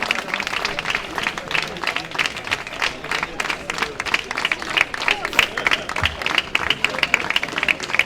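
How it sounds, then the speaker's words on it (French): Audience applause after a women's padel match at a FIP Silver tournament in Réunion, a dense, steady patter of many hands clapping throughout with crowd noise and a voice talking over it. "6-3, 6-3, on peut les applaudir."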